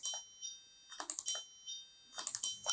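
A Pinoo robot buzzer alternates between A4 and C5 tones every 0.3 seconds like an alarm, a faint thin beeping with close clicky tapping over it.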